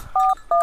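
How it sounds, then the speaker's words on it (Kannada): A phone with an incoming call gives two short electronic tone beeps in quick succession, close and clear, with no talk. "ಫೋನ್ ಬಂತಲ್ಲಪ್ಪ."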